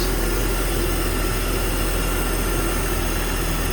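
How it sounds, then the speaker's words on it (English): A cold 1998 BMW Alpina B10 E39 Touring engine idles in a showroom at a steady, slightly rough, loud rumble with no variation throughout. "So the engine is still cold. It will still quiet down a little bit."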